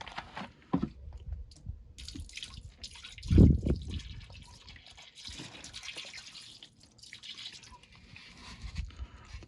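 Car cleaning chemical poured straight from a large bottle during spring cleaning of a Peugeot 106 rally car, a faint wet gurgling and dripping with a louder splash midway, close by with no talk.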